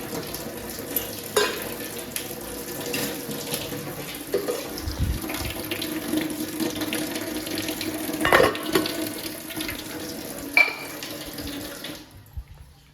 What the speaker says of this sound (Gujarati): અમે છે ને ફિલ્ટર પાણી પીતા નથી, એટલે ડાયરેક્ટ નળેથી ભરી લેવાનું.